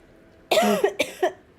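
A single person coughs close up, one longer hacking cough followed by several shorter, sharp coughs after a moment of near silence.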